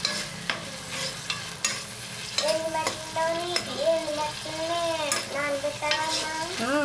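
Chana dal, onions, green chillies and curry leaves sizzle and fry in a pan while being stirred, with scraping utensil clicks and a steady crackle throughout, no talking.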